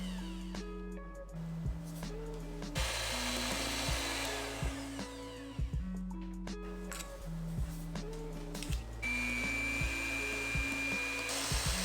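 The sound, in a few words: whipping egg whites until frothy, adding sugar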